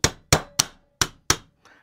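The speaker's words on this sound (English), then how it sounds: "So we get our brass hammer" Brass hammer tapping a pin into a Weihrauch HW30S air rifle during a rebuild, five sharp, close metallic taps in an uneven rhythm, then a softer sixth, with no talk.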